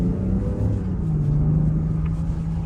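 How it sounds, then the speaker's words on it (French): A car's V6 engine runs in sport mode, a steady low rumbling drone with a faint rising hum, heard close and alone without voices. "t'entends un peu le V6 chanter"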